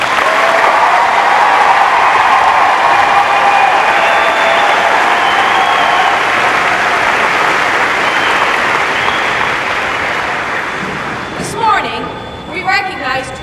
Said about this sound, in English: How about a round of applause for our new Marines and their drill instructors?